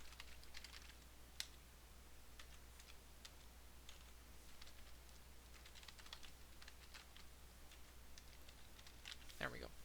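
Typing on a computer keyboard, soft scattered key clicks in small clusters, faint and distant over a steady low hum, with no talking.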